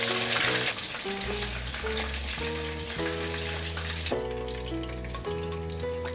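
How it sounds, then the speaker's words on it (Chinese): Eggplant pieces frying in hot oil for a vegan dish, browning to golden on the second side, give a steady, close sizzle that runs the whole way through under tonal background music. "另一面也炸成金黄色"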